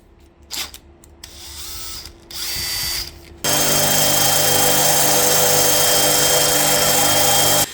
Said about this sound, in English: I don't have lathe yet, that's why I am using drills instead